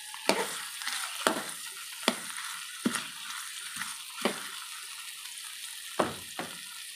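Onion sautéing in a hot pan beside browned pork for adobo gives a steady sizzle, with a spatula stirring and striking the pan about once a second. No one speaks.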